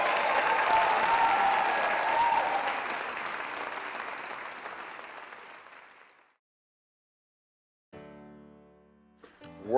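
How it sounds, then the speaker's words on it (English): An audience at a tribute program applauds in honor of a woman, a dense wash of clapping that fades out over six seconds, followed by silence and then a brief snatch of music. "Clap for her, ladies and gentlemen."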